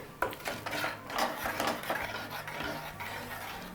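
A spoon stirs tamarind juice into tomato dal in a cooking pot, giving soft scraping and clinking against the pot in a steady, close, quiet rhythm with no talking.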